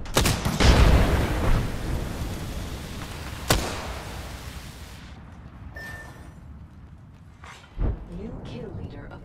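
A grenade in Apex Legends bursts in a loud close blast with a long rumbling tail, then further sharp booms and cracks follow at intervals, fading into quieter game sounds with a brief tone.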